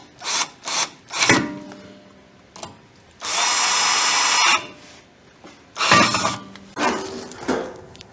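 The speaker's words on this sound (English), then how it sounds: "You can finish it up with a screwdriver or a power tool," Power tool driving bolts back in during a rear disc brake replacement, heard as several short whirring bursts, one long steady run of about a second and a half, then more bursts, close and loud with no talk.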